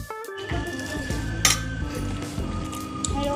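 Dishes clink and cutlery scrapes close by as people eat at a Saraswati Puja outing, with steady kitchen or crowd din underneath and a sharp clatter near the middle.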